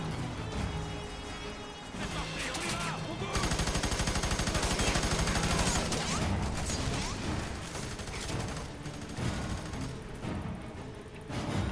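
Heavy machine-gun fire in the video game Fear 3, rapid, loud bursts of shots with mechanical clatter and crashes, nearly continuous and swelling in the middle.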